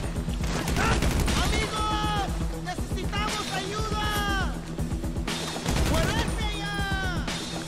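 Rapid bursts of gunfire in GTA Online crackle in quick strings of close, sharp shots. Short gaps separate the bursts, and high chirping game sounds are mixed in.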